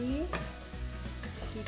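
Potato filling being stirred in a hot frying pan for stuffed tofu and begedil, a steady sizzle of frying with a few soft scraping stirs of a spatula, close and continuous with no voices.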